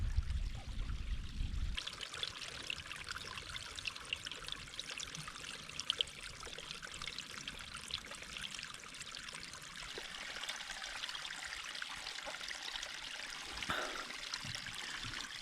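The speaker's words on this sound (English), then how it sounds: "We found a water source, so we're gonna start getting some water from here" Water trickling and pouring from a mountain stream source in the Lake District fells, a steady close splashing flow that continues throughout with no talk.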